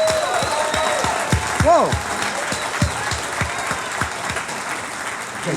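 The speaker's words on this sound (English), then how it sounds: "big round of applause for Kwasi Affum" An audience at a corporate property meet applauds speaker Kwasi Affum, a dense sustained round of clapping filling the room, with a voice calling out and talk over the applause.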